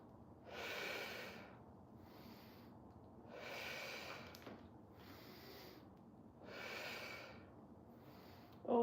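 Slow, even breaths during a beginner's breath-focused workout, with three long airy inhale-exhale cycles spaced a few seconds apart, close and soft, with quiet gaps between them and no talking.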